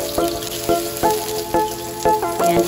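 Onion sautés in hot oil, a continuous sizzle broken by regular clinking stirs about every half second, close and clear.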